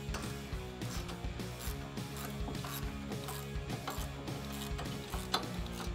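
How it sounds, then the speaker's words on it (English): Rapid ratchet clicking from a wrench turning a 15 mm socket to remove the brake caliper and bracket on a 2005-2014 Mustang GT, quick repeated pawl clicks in bursts, fairly quiet and close, with no talking. "I have a 15 millimeter socket, and I'm gonna take off the whole caliper and bracket."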